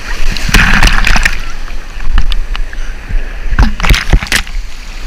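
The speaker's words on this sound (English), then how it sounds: "Paddling. Oh, there's a wave!" Splashing water as someone paddles a surfboard into a wave at the beach, with irregular bursts of splashes and sloshing in two clusters, loud and close, with no talk.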